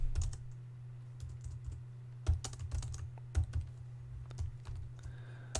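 Typing on a computer keyboard during a live stream comes through as sparse, irregular key clicks, near and moderately quiet, over a steady low hum.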